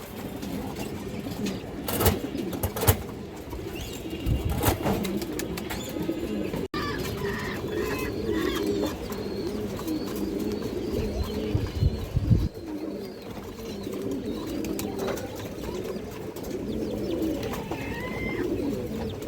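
Large Muslodom pigeons coo repeatedly in a steady, overlapping chorus, close by, with occasional wing flaps and chirps amid a busy pigeon-seller setting.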